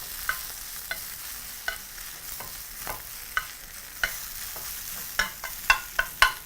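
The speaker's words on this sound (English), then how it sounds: "using a pair of tongs, proceed to just toss those in your hot pan, just allowing for a little bit of coating from the oil" Spinach tossed with tongs in a hot oiled pan, a steady sizzle under rhythmic metallic tong clicks and scrapes that grow quicker and louder toward the end, close and without speech.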